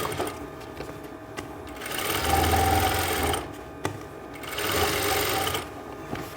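A sewing machine stitches the margin of a full-flare umbrella skirt in two sustained runs separated by a short pause, steady and close, with light handling noise in between.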